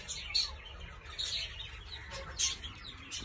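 Pigeons in a cage make soft, distant chirps and coos, a few faint calls rising over quiet background noise, with no talk.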